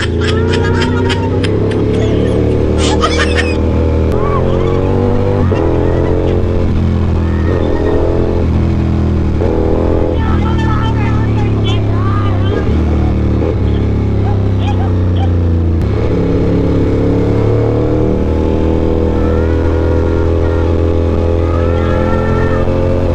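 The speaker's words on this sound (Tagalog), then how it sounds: "malakas ang makina nito" A Ducati V4 S motorcycle engine drones loudly and steadily, its pitch rising and falling as it revs, with people talking over it.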